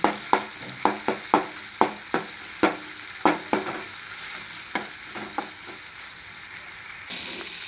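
Tomatoes cooking down to pulp in a pan for a ridge gourd peel chutney, a soft sizzle broken by a run of sharp, regular spoon taps and stirring knocks that thin out toward the end.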